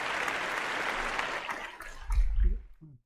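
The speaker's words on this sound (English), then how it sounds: "There's a big round of applause for Ray." Applause on a paranormal call-in radio show, a dense wash of clapping that holds steady and then fades out over about two seconds, followed by a few low thumps and brief voice sounds.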